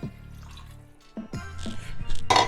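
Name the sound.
cup of water poured into a pressure cooker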